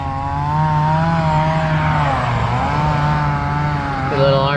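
Small RC car engine on a hill climb, a steady buzzing drone with smooth pitch dips and rises as the throttle shifts, then a sharp rev near the end, close and continuous with no talk.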